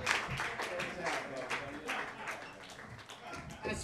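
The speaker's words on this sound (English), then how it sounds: "Another round of applause for Mr. Willie Macc." Audience applause and scattered clapping at a dive bar comedy show, a dense crowd patter running steadily throughout, with voices mixed into the clapping.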